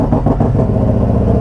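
A 2022 Harley-Davidson Road Glide Special motorcycle idles up close, its engine a loud, steady low-pitched rumble with a lumpy pulse.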